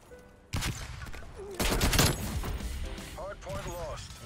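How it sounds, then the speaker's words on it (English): Gunfire from a hostile sentry turret in Call of Duty Black Ops Cold War, loud dense bursts starting at about half a second and again at 1.6 seconds, mixed with game effects and a voice talking. "Hostile sentry turret active."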